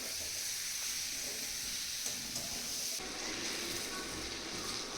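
Salted chicken pieces fry in a pan before being covered, producing a steady, dense, close sizzle that holds evenly throughout with no voices.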